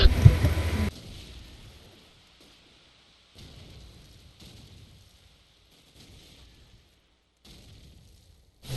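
A grenade goes off in a Call of Duty 4 competitive match: one loud, booming blast opens, then fades into near quiet broken by a few faint distant thuds.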